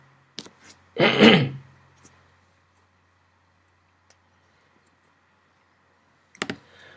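A few light mouse clicks land near the start, saving a test in an online course editor. A brief rustling burst follows, then quiet until another short burst near the end.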